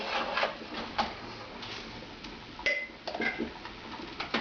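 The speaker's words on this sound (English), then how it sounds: "I'm going to do a quick little stir" Jam being stirred in a hot pot, a quick series of light clinking and scraping taps of utensil against pot, fairly close, with no talk.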